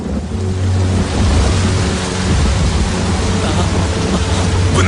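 Steady, dense rain hiss with a low rumbling wash underneath, loud and continuous throughout.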